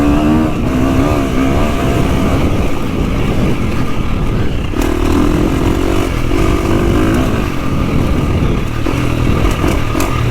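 A 2025 KTM 350 XCF dirt bike engine runs continuously under load on a GP/woods trail loop, a loud, steady four-stroke drone with shifting pitch as the rider accelerates, with no talk.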